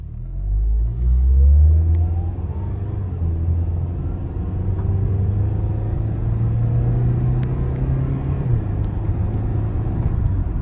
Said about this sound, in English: let me go ahead and drive this baby for you so you can see how it operates